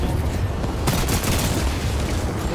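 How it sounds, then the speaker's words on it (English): Rapid gunfire bursts ring out in an Apex Legends scrim match, sharp and close, with a dense volley of shots and booming impacts crackling continuously over the whole moment. "I'm shooting him"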